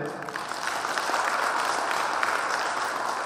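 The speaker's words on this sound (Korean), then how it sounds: "사모님도 계신데 같이 크나큰 박수 한번 주실래요?" Applause at an association president's inauguration ceremony, a dense, fairly loud wash of clapping from a roomful of people that holds steadily throughout.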